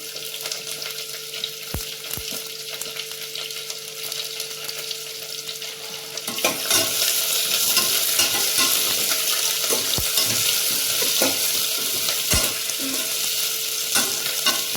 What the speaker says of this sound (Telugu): ఆనియన్స్ వేసుకుందాం. ఆనియన్స్, పచ్చిమిరపకాయలు,